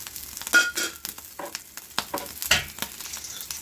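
Food sizzles and crackles in a hot pan, with bursts of frying noise and stirring scrapes, close and uneven.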